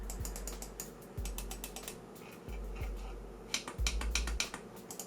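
A run of sharp, dry clicks from a Logitech MK270 mouse's buttons, some single and some in quick pairs, close up and fairly quiet over a low hum.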